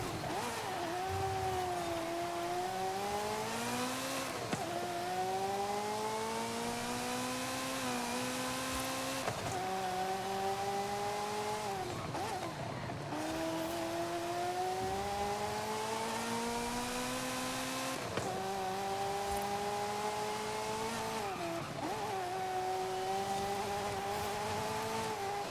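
A race car accelerates again and again to heat its tires, its engine climbing through several gear shifts in repeated, evenly spaced pulls, steady and moderately loud, with no voices.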